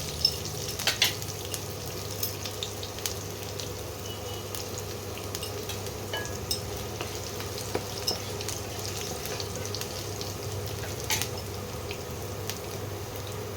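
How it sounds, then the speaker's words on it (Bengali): Chopped green chilli tempering in hot oil in a home kitchen pan, a steady soft sizzle and crackle that runs throughout with occasional light spatters, no voices. "এবার একটু ভাজা ভাজা করে নিয়ে একটু সুন্দর গন্ধ বেরোলে তখন অন্য মশলাগুলো দেব।"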